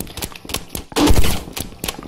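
Weapon gunfire in the Rec Room video game: rapid, loud bursts of repeated shots with short pauses between volleys.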